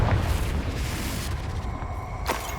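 A Confringo spell bursts in Hogwarts Legacy, a heavy booming blast at the start that settles into sustained rumbling, with a second sharper crack near the end.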